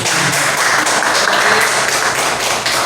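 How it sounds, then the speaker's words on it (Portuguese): A church congregation breaks into loud, close applause, a thick steady wash of many hands clapping together at full volume across the whole stretch with no speech over it. "Uma salva de palmas."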